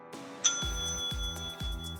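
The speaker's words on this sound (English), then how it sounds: "When you hear the bell," A bright page-turn bell chime for a read-along audiobook rings once, a clear ding with a lingering tone, followed by soft low thumps.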